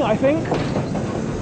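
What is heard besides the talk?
class 25 diesel locomotive pulling a goods train of mineral wagons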